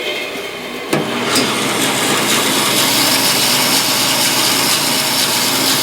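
A 14-inch bandsaw starts with a sharp thump and then runs at a steady, fairly quiet whir while cutting wood, with a continuous close hum and faint rhythmic blade ticks and no voices.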